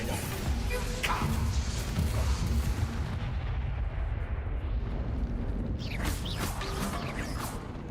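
A Confringo fire spell explodes in Hogwarts Legacy, a loud rumbling blast with crackling debris that fills most of the stretch, thinning briefly midway before a second burst of crashing noise swells back up.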